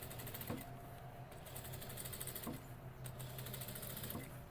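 Domestic sewing machine running a 1 cm seam through dress fabric, a steady continuous whir with faint rhythmic needle ticking, moderately quiet and unbroken, with no one speaking.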